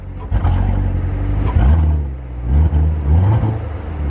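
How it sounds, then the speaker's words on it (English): A car engine revs up in a few rising surges, deep and loud at close range, settling between pulls. "Give it a little rev."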